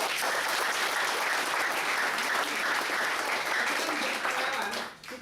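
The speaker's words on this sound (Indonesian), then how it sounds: "Kasih tepuk tangan untuk mereka." An audience applauds steadily and loudly at a motivational gathering, a dense continuous wash of clapping that carries through the whole stretch before thinning abruptly at the end.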